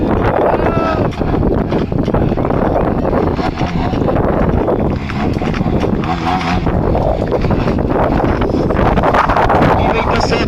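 Strong wind at an air show roars and buffets across the whole stretch, a loud, continuous rushing noise with gusty swells.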